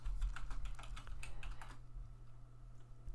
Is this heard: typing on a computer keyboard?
yes